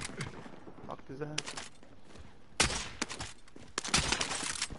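Bursts of gunfire in the shooter game Warzone crack out in several sharp volleys, loud and close, with a player's voice talking between the shots.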